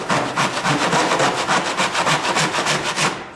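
A handsaw cuts into a wooden door jamb so laminate flooring can slide underneath it, making steady, rhythmic back-and-forth rasping strokes, close and fairly loud, with no talking.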